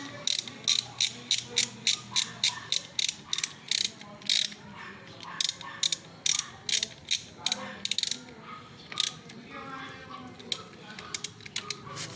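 Ratchet wrench with a 19 mm socket working the oil drain plug of a Bajaj Dominar 400 motorcycle, giving repeated sharp clicking bursts in quick rhythmic runs with brief pauses, close and fairly loud.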